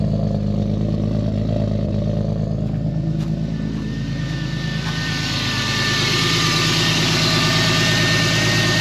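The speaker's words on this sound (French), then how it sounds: "J'entends un bruit d'échappement et pas de poussoir." A turbocharged BMW E36 engine idles nearby with a steady low exhaust rumble, a faint ticking click partway through and a whistling whine building in the second half as the revs lift slightly.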